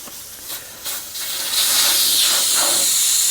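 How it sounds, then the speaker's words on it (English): Air rushes from an Acura car tire once its valve core is removed: a few short bursts, then a loud, continuous hiss that grows stronger up close. "Now we're going to let the air out of the tire."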